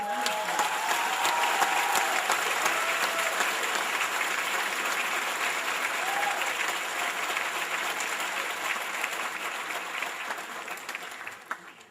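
Sustained applause from a large crowd at a high school graduation, steady and dense clapping that holds for the whole stretch before tapering slightly at the end.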